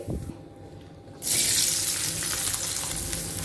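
Bitter gourd (kakarakaya) pieces hitting hot oil in a pan, a sudden loud, dense sizzle that holds steady after a quieter start.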